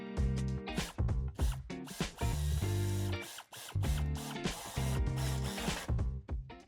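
A screw is tightened on a tow hitch being fitted to a 2024 Peugeot Boxer, heard as close, repeated bursts of mechanical whirring and clicking separated by short pauses.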